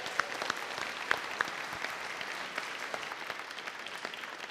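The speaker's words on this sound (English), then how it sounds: "let's give Megan a great big round of applause." An audience at an ocean exploration open house presentation claps for a presenter, with dense, sustained applause and a few sharper individual claps standing out, no voices over it.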